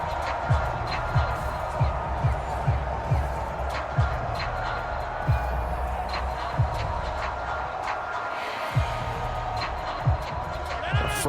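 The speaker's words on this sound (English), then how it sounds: "that might be exactly what they needed to wake up this home crowd" Home crowd roaring in Madden NFL 25 during a Packers vs. Jets stadium game, a steady wash of cheering with sharp thumps and bursts rising through it, heard continuously across the whole stretch.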